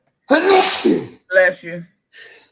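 A loud sneeze bursts out near the microphone, followed by two shorter voiced sounds, like brief words or a sniff, and a faint breathy trailing sound.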